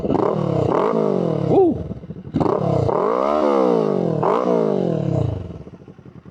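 A Kawasaki Ninja 500 motorcycle with a full exhaust revs up several times in quick succession, loud and close, each rev rising and falling, with a short cheer from a voice partway through.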